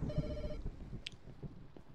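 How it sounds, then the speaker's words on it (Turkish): A phone rings in the Pets Hotel video game, a short electronic ringtone burst that cuts off after half a second, followed by quieter game clicks and low background sound. "Telefon çalıyor."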